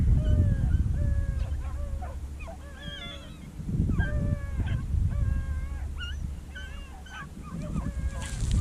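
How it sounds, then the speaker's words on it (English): Hound baying during an outdoor rabbit hunt in the woods, repeated yelping howls in rhythmic bursts, fairly clear over low rustling and wind-like rumble. "Hear that dog over there?"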